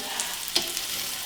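Chicken tikka pieces fry in a pan with a faint, steady sizzle, broken by a couple of soft clicks from stirring over about a second.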